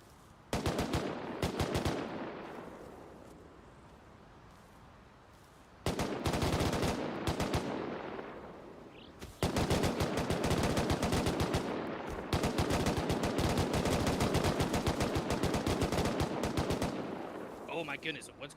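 Rapid bursts of machine gun fire in the video game Rust during a competitive scrim match, with dense overlapping automatic volleys, loud and sustained, with a brief lull between bursts and a caster talking underneath.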